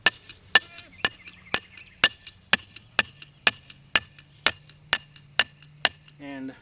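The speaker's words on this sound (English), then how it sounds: "This is a T-handle ground rod, and we're just gonna drive it in the ground a little bit." A T-handle ground rod being hammered into the ground on a farm, about a dozen sharp metallic strikes in a steady rhythm roughly every half second, loud and close, with a brief voice at the end.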